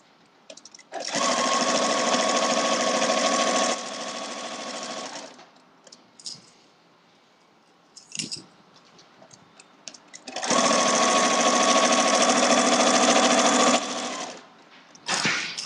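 A sewing machine stitches a quilt seam in two long, steady, loud runs of rapid mechanical whirring, separated by a quiet pause with small handling clicks.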